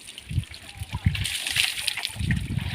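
A child splashes and plays in bath water, with irregular bursts of splashing and sloshing close by, while an adult talks over it.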